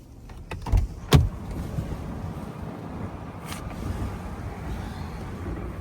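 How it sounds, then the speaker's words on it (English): Power window motor on a 2018 Toyota 4Runner TRD Off-road, a low steady hum running throughout under cabin ambience, with a couple of short clicks and thumps near the start. "power windows"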